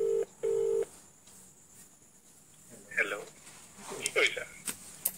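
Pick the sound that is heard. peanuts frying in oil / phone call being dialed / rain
phone call being dialed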